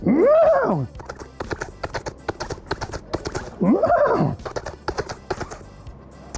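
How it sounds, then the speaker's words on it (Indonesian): A horse in an animated children's series neighs loudly twice, with rhythmic hoof clip-clops running between the whinnies as it is ridden. The sounds are close and clear. "Lalu naik kuda lagi."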